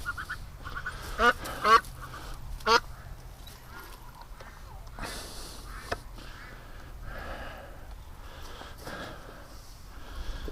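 A few loud, nasal duck quacks ring out close by in the first seconds, followed by softer scattered calls over a steady outdoor background.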